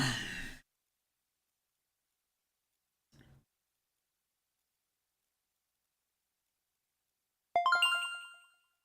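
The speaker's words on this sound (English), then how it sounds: "I don't know what that little bell was right there." A small bell chimes once with a bright ringing tone that decays over about a second, following a short breathy sound and a faint thump amid near silence.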